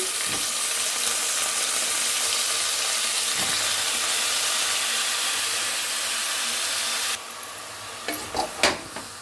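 Brinjal and chopped vegetables hit a hot pan for a brinjal gojju curry, setting off loud, continuous hissing and sizzling that cuts off abruptly, leaving a few clattering stirs and taps.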